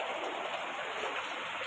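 Heavy rain pouring down in the dark, a dense continuous hiss that stays loud and steady throughout, no speech.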